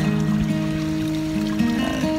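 A mountain creek in the Washington wilderness flows steadily close by, a continuous broadband rush with no breaks, joined by a faint, wavering tonal hum running underneath throughout.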